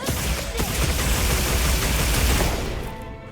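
Gunlance shelling attacks in the video game Monster Hunter Wilds, heard as a dense, loud barrage of explosive bursts that continues steadily before fading out.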